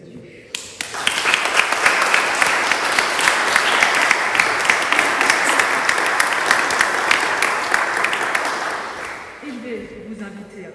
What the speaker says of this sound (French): Et on va t'applaudir pour te souhaiter la bienvenue dans cette grande famille.